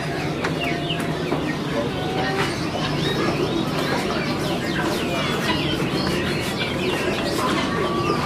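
Birds at the Sukahaji bird market in Indonesia chirp and coo continuously at moderate distance, with frequent short whistles and calls layered over a busy crowd murmur and a steady low background hum.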